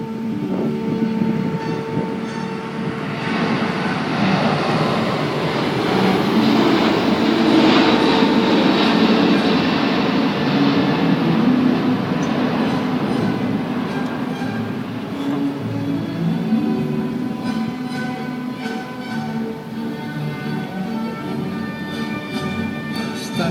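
Airbus A380 jet airliner taking off at the Le Bourget air show, a loud, sustained broadband engine roar that swells and holds steady, close and continuous throughout with no talk.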